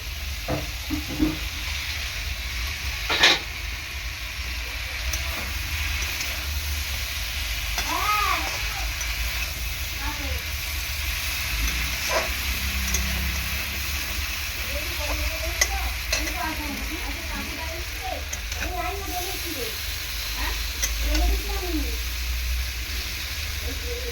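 Amudi fish with raw tomato sizzles and gets stirred in a hot pan, a steady close frying hiss with scraping stirs and faint voices in the background.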